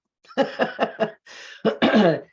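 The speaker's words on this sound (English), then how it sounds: "let me just clear my throat here real quick" A quick series of throat-clearing coughs, four short bursts followed by a pause and a couple of heavier rasping clears, close and fairly loud.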